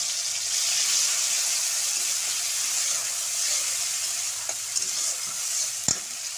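Oil that was used for frying pointed gourd sizzles steadily in a pan as tomatoes are added, a constant close hiss with a few faint stirring clicks near the end.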